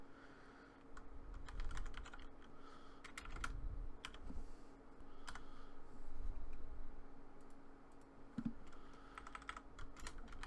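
Code typed on a computer keyboard, a steady stream of light, rapid key clicks in uneven bursts, close up over a low background hum.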